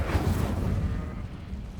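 An Incendio fire spell cast in Hogwarts Legacy bursts out as a loud, booming whoosh of flame that roars at full strength for about a second, then slowly fades.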